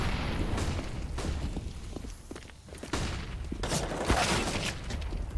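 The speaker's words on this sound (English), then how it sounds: "Flashbang as well from Dobu." Counter-Strike match sounds from a Tyloo vs Tiger pro game: dense bursts of gunfire and sharp pops, with a flashbang blast and nearby footsteps, loud and continuous throughout.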